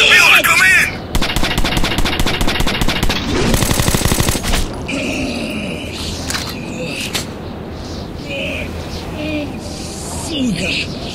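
Automatic gunfire in Metro 2033 rattles in rapid, loud bursts through the first four seconds, then gives way to quieter ambient game sounds with scattered noises.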